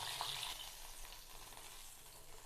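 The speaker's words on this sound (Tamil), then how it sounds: "இதே போல் எல்லா பீஸையும் போட்டு பொரித்து எடுத்துக்கலாம்." Pieces of vanjaram dry fish deep fry in hot oil, giving a steady, close sizzle and crackle that stays fairly quiet throughout.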